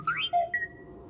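BD-1 droid beeping in the video game Star Wars Jedi: Fallen Order: three quick, bright chirping beeps, sliding and warbling in pitch, close and fairly loud, fading into quiet background hum.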